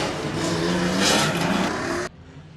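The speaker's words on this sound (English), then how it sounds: "coming out through the Renee Huia gate, we've got the stock cars, and this is the first of the races" Stock cars at a speedway roar loudly out of the pit gate, with engines revving hard in a close, continuous growl for about two seconds before the sound cuts off abruptly.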